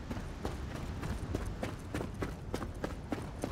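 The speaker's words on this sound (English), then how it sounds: "You can hear the footsteps," Character footsteps in Star Citizen on microTech's frozen ground, an even, continuous crunching stride of about three steps per second, close and clear against a soft wind-like backdrop.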